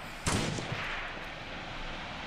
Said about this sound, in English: Those rounds are really kicking some dirt.